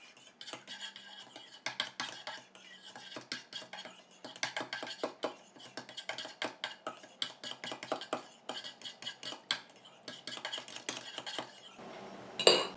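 A homemade micellar water mixture with mauve and ylang-ylang is stirred in a container, giving a continuous rapid clinking of utensil against vessel, close and fairly quiet with no talking.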